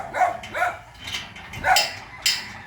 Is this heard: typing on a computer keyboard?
no